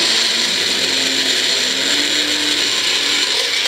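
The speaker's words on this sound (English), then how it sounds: "Put it in blender." A blender whirs steadily at high speed blending spinach into a paste, a loud, continuous grinding drone with a slight rattling texture throughout.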